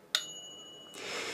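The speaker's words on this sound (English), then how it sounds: "there's the little clockwork timer switch with its bell in the back" A small bell on the clockwork timer switch of an ASDA air fryer strikes once with a clear, bright ting that rings on with a sustained tone, followed by a soft broadband rustle close by.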